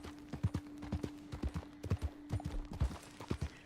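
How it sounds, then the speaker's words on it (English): Hooves of a horse galloping in Red Dead Online thud in a quick, repeating rhythmic clip-clop, close and moderately loud, with a faint steady tone running underneath. "just listening to my horse gallop"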